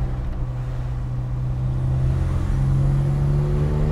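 Engine of a Mercedes W111 Cabriolet hums steadily while driving on a classic car rally road, a loud close drone whose pitch rises slowly as the car accelerates, with no talking.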